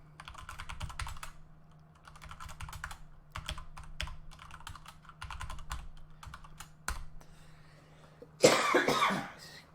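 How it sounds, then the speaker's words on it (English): A sudden burst of coughing from someone with a cold, close and loud, following steady bursts of computer keyboard typing in a quiet room. "it's just a little bit of coughing that goes on"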